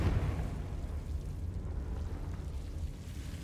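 Confringo spell blast in a wizarding video game: a deep, rumbling explosive burst that hits hard at the start and then settles into a sustained low roar, close and fairly loud.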